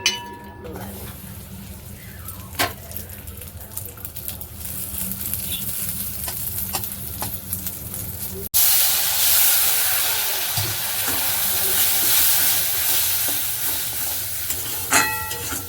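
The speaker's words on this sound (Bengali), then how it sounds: "পাশে একটু এলাচ ভেজে নিচ্ছি গুঁড়ো করে দেবো" Cardamom pods dry-roasting in a pan beside a flat griddle for rotis and semolina, giving a soft crackle and scrape under steady kitchen background noise, with a louder, brighter hiss taking over midway.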